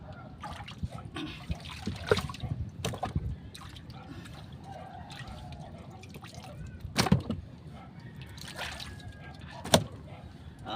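Fast-flowing water courses past in a strong current, a continuous trickling, splashing wash with a few sharper knocks and splatters, fairly close, with faint voices at times.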